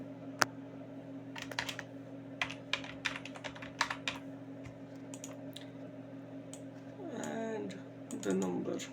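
Keys clack on a computer keyboard in quick irregular bursts as an email address is entered into a small-business invoicing form, close and clear over a low hum, with faint voice-like sounds near the end.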